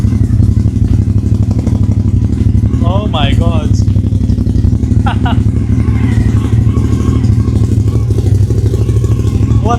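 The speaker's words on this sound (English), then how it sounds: "Listen to that burble." Cagiva Raptor 1000 motorcycle with a newly fitted exhaust, its engine burbling loud and close in a steady low throb throughout, with people talking and exclaiming over it.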